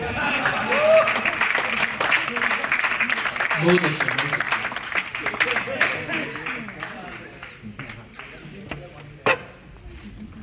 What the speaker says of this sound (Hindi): जब तक मैं पानी पी के आऊं तब तक ताली बजाते रहिए।